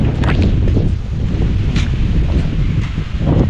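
A sudden gust of wind buffets the microphone, a loud rumbling roar with rustling, sustained throughout.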